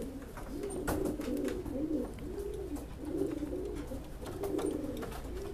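A pet dove coos in a steady, repeating rhythm of soft, rolling phrases, close and clear over a faint background hiss with no talking.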